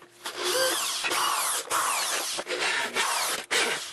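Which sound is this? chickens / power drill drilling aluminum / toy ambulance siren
power drill drilling aluminum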